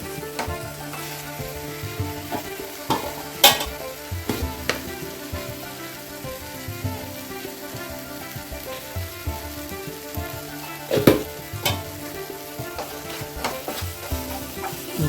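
Masala sizzling in a pan while being stirred, steady close frying hiss with repeated scraping strokes of a spoon against the pan.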